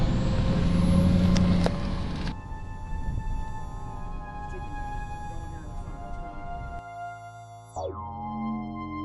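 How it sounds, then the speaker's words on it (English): Road traffic with a car driving close behind, engine and tyre noise steady throughout; a loud burst of vehicle noise early on settles into a continuous rolling hum, with a brief sweeping tone near the end. "Got a car right behind us."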